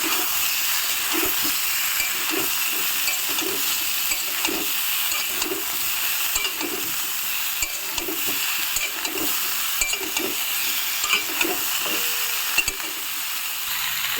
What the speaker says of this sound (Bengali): দিয়ে এই সিম আলু বেগুনটাকে একটু লাল করে ভেজে নেব।